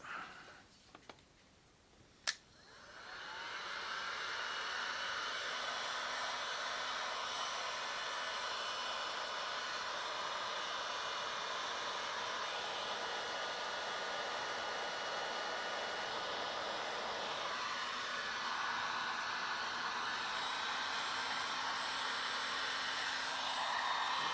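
Close up, a heat gun shrinks heat-shrink tubing on wiring in a 1994 Ford Probe GT during a vanity mirror install. A click and a short rattle come first, then a steady, even whooshing blow runs uninterrupted for about twenty seconds.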